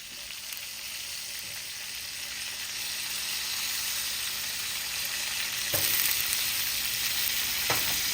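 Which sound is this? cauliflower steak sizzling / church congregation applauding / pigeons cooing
cauliflower steak sizzling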